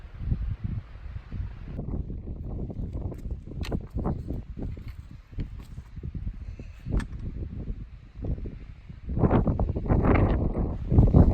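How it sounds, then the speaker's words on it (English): Gusty wind on a rocky, boulder-strewn hiking trail buffets the microphone with low rumbling surges, rising strongly near the end, along with faint rustling and scattered clicks of movement; no one speaks. "the wind is not making it very easy"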